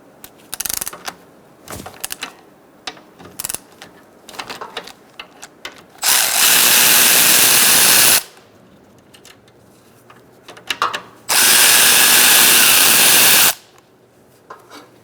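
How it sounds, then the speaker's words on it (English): A power tool with a 10mm socket loosens the A/C line fittings on a 2012-2017 Hyundai Accent, running in two loud sustained bursts of about two seconds each, between close clicks and clatter of handled parts. "Using a 10mm socket, we're going to disconnect our lines."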